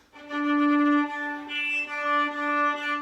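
Several bowed string notes in a slur played with too little bow pressure, thin and breathy with a soft airy hiss around the pitch, moderately loud and close.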